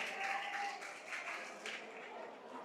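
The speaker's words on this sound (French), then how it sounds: "On applaudit pour le censeur, s'il vous plaît." A game-show audience in a Niger school quiz duel claps and applauds for the censor in a steady, dense wash of clapping that runs throughout, with voices mixed in underneath.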